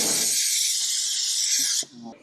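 Steady steam hiss from a steamer used while fitting paint protection film to a car, loud and continuous for nearly two seconds before cutting off abruptly, followed by a few faint handling noises.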